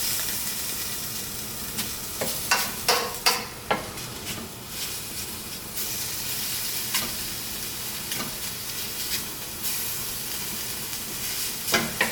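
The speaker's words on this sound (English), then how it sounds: "Hickory smoked bacon to the pan to cook." Hickory smoked bacon frying in a pan, a steady close sizzle and hiss with a few sharp spatters and pops near the start.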